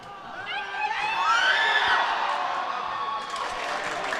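A crowd at a high school varsity basketball game in a gym screams, cheers and whoops loudly and continuously, a dense wash of voices with a few higher shrieks rising above.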